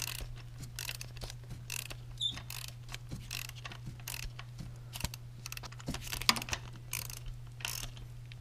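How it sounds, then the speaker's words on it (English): Socket wrench ratcheting a spark plug snug on a Lexus LS430 engine: a steady series of quick, light ratchet clicks close by over a low constant hum, with no talking. "Snug it down with my socket wrench."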